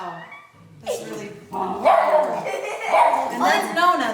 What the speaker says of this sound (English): And that's Nona, the dog